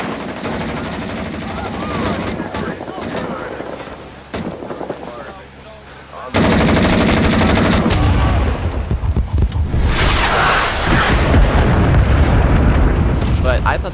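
Bursts of gunfire and heavy explosions from an artillery strike in the Vietnam-era shooter Rising Storm 2: Vietnam, loud and chaotic. A sudden barrage hits midway and keeps going, and voices talk throughout.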